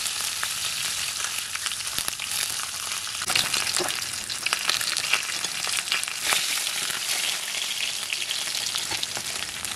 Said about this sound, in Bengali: এবার আমরা আবার কড়াই বসিয়ে এর মধ্যে মাছের মাথাটা ভেজে নিচ্ছি।